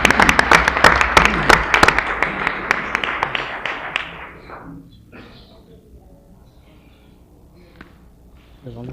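An audience at a city commission meeting applauds to welcome guests, with a dense burst of close clapping that thins out and fades after a few seconds, leaving a quiet room with a few faint sounds.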